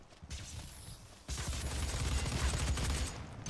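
Gunfire in the DOOM open beta multiplayer: a dense burst of rapid shots and impacts, quieter at first and then louder and continuous, with no talking.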